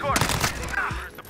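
Rapid gunfire from the ISO submachine gun DLC weapon in Modern Warfare, a quick string of loud close shots with game sounds following as the burst tails off.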